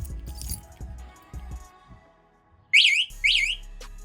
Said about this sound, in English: Next up, we're gonna talk about the alarm system